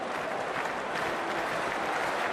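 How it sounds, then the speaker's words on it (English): Stadium crowd in Cricket 24 cheering and clapping as a match gets underway, a steady dense roar of applause heard at a distance without pauses. "already the crowd is up and about."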